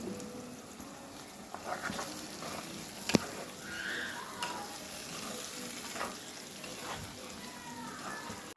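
Brinjal frying in oil and masala for Tamil ennai kathirikai kulambu, with a steady close sizzle and occasional stirring scrapes throughout and no talk.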